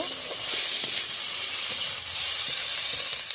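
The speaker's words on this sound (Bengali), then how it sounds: "মশলাটাকে এরকম ভালোভাবে কষিয়ে নিতে হবে। হলুদ গুঁড়োও দিয়ে দিয়েছি, এবার ভালো করে নাড়িয়ে নেব।" Turmeric-spiced masala for a Bengali morola fish jhaal frying in a pan as it is stirred, a dense steady sizzle and hiss filling the whole stretch with faint scraping strokes, close and fairly loud, no voices.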